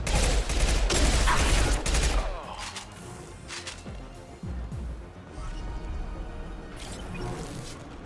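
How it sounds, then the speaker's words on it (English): Heavy impact gun fire in the sci-fi shooter Mass Effect 2: dense, loud bursts of blasts for the first two seconds, then scattered thuds, crashes and battle noise continuing under game sounds. "Firing an impact gun!"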